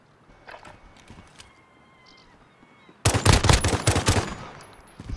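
Rapid shotgun blasts in a video game, a dense burst of loud, sharp reports after three seconds of quieter background sounds.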